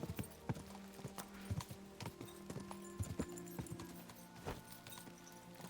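Horse hooves clop steadily while riding in Kingdom Come Deliverance 2, a brisk irregular drumming of hoofbeats close by, moderately loud over faint background tones.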